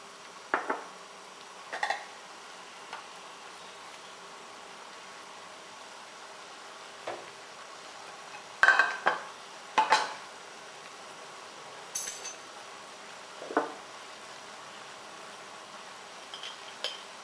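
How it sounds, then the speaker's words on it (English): Sparse clinks and scrapes of a spoon against a cooking pot while stirring a coconut milk and palm sugar mixture for Thai bua loy dessert, quiet, spaced a few seconds apart. "as you cook it you have to stir"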